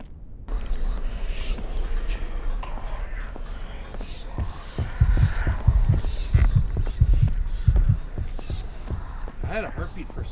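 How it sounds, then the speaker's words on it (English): A video game heartbeat throbs in a run of low, thumping pulses that swell louder in the middle, layered under a constant hum and ticking game sounds, with someone speaking over it. "I had a heartbeat for a second there."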